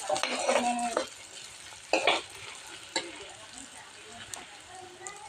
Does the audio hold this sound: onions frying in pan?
yes